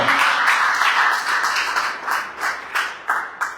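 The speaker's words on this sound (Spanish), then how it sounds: "¿Cuántos le pueden dar un aplauso al Señor?" Church congregation clapping for the Lord in a Spanish-language service, a brisk round of hand claps that thins toward the end into a few separate, sharper claps.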